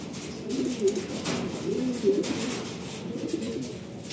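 Racing pigeon cooing on arrival at the loft during a hot-day race return, soft repeated low coos close by over steady outdoor background noise.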